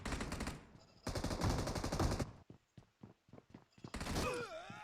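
Video game gunfire, bursts of rapid shots in two dense volleys, then scattered single cracks and a final burst, loud and close.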